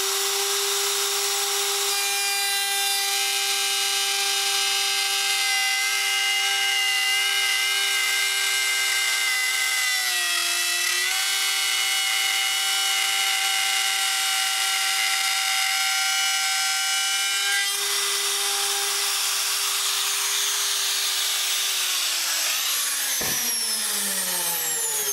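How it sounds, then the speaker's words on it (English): A wood router cuts a groove through a wooden board for building an animal fodder system, a loud, steady high-pitched whine held close for about twenty seconds, dipping briefly mid-cut, then spinning down at the end. "Alright, so we got our first side all routed out."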